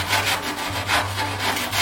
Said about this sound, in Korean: 여기를 사포로 이런 식으로 눌러줍니다.